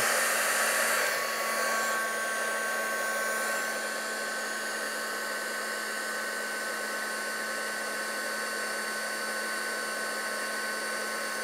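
A heat embossing tool blows a steady, loud, even whoosh like a small hair dryer while melting white embossing powder on kraft card. The airflow holds constant throughout, with no talking.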